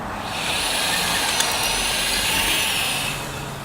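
A power drill whirs steadily as it augers a hole for a door bullet bushing, a loud continuous hum rising in and holding for a few seconds before easing off, with no voices.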